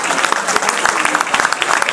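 A crowd applauding a player named Tony after a club match at Poissy, steady dense clapping filling the space, loud and close, with a voice briefly audible beneath.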